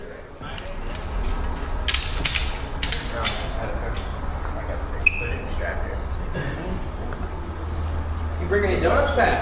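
Ratchet straps being cranked to tie a BMW i8 down onto a dyno, sharp clicking ratchet bursts at intervals over a steady mechanical hum, with a few creaks and clanks nearby.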